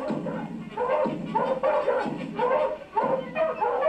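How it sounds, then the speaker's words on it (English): Several large cartoon dogs yap and bark in a rapid, continuous string, close and loud, with no pauses. "with the dogs yapping at Jack's heels"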